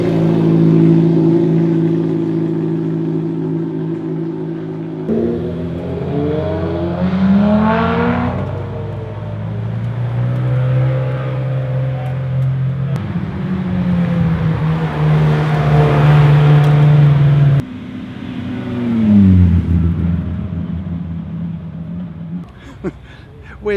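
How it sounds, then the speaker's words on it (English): Loud supercar engines rev and roar in bursts at a hill climb start line at the Goodwood Festival of Speed, pitch climbing and falling as cars accelerate close by, with crowd noise in the background. "We're down at the start line for the first batch of hill climb cars."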